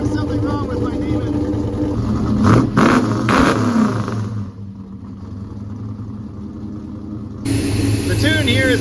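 A 1965 Plymouth Barracuda with a 360 V8 idles roughly nearby and then is revved in a few sharp bursts before dropping back to a low idle, with brief talk over the engine.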